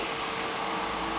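A vacuum cleaner runs steadily up close, a constant loud whooshing hum with a high whine on top.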